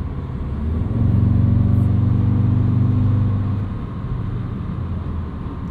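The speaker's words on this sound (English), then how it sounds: "just making a nice sounding turbocharged four-cylinder" A 2022 Audi S3's turbocharged four-cylinder engine pulls steadily while driving, a loud low droning rumble that swells and holds before easing off.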